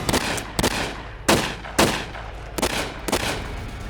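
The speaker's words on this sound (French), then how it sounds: "plusieurs coups de feu retentissent, trouant brutalement cette quiétude." Gunshots ring out in succession at night on a quiet street in Lyon, above the Saône. Six sharp reports come at irregular intervals, each loud and booming with a short decay.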